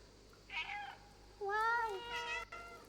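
A cat in the video game Stray meows twice, a short high call followed by a longer, drawn-out meow, clear and close over a low steady background hum.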